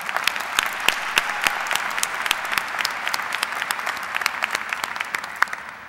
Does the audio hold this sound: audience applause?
yes